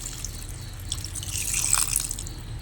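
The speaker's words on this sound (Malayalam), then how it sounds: "ഞണ്ട് വേവാൻ ആവശ്യത്തിന് വെള്ളം ചേർത്ത് കൊടുക്കുന്നത്" Water is poured into a pot of cooking crab curry, a quiet trickle and splash that swells briefly, then settles.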